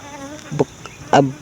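Honey bees near a hive box after it is moved from the forest, with a faint background hum and two short, close buzzes as single bees fly past.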